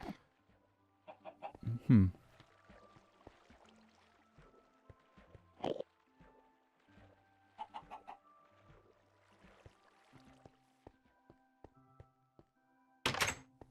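Sparse, quiet chicken clucks in Minecraft come and go between occasional dull thunks, with long near-silent gaps.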